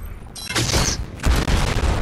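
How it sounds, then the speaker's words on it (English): Rocket launcher shots and blasts in Fortnite: a sharp launch followed by booming explosions, loud and close, two heavy bursts within about two seconds. "That's me shooting rockets."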